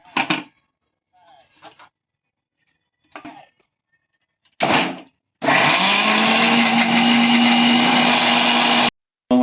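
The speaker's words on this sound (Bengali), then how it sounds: "এখন আমি মিক্সারের মধ্যে শুকনো লঙ্কা, আদা আর হচ্ছে রসুন মিক্সারে দিয়ে পেস্ট করে নেব।" A mixer grinder blending dried chillies, ginger and garlic into paste runs loud and steady for about four seconds after a few short knocks and bursts, its motor whine holding constant until it cuts off near the end.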